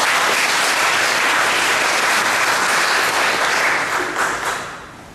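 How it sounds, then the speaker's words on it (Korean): At a Korean church gathering in Rome for a 2012 European conference in Italy, the audience gives a pastor dense, sustained applause from many hands, loud and even before tapering off toward the end. "박수로 환영해 주시길 바랍니다"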